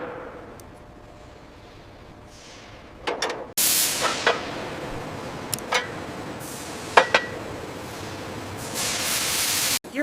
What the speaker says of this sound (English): Here we see the pressurized water spray test.